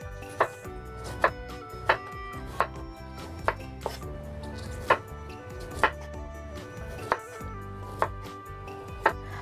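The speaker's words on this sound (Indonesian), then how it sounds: "Dan ini saya potong-potong seperti ini saja" Carrots being cut with a knife on a board, about a dozen crisp, evenly spaced chops in a steady rhythm, close and clear with no talking.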